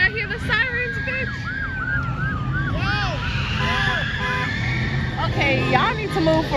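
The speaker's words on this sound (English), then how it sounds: "I hear the sirens" Police and emergency vehicle sirens wail and yelp through a nighttime car meet, rising and falling tones approaching over engine rumble and crowd noise, with people talking nearby.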